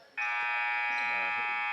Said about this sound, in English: It's a loud buzzer.